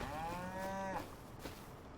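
A cow in Farming Simulator 25 gives one clear, drawn-out moo lasting about a second, followed by quieter ambient game sound.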